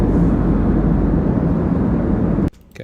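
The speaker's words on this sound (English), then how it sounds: "my airplane noise." An airplane roars in a loud, continuous broadband wash that holds steady for a couple of seconds, then cuts off abruptly into near quiet.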